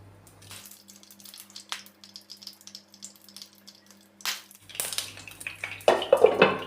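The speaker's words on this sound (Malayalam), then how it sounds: "ഇനി ഇതിലേക്ക് കടുക് താളിക്കാം. വെളിച്ചെണ്ണ ഒഴിച്ച് കൊടുക്കാം." Mustard seeds are tempered in hot coconut oil for a Kerala curry. Utensils clatter over a low hum, then bursts of sharp, rapid crackling and popping grow louder near the end.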